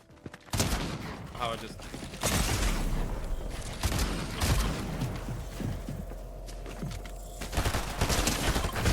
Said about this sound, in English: he's shooting me in the fucking toes